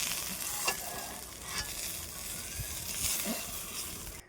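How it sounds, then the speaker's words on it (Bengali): A fish head and tail fry in hot oil in a pan, giving a steady, moderate sizzle with occasional spatter pops and faint stirring scrapes. "মাছের মাথা আর লেজটাকে আমি একইভাবে আবার ভালো করে ভেজে নিলাম।"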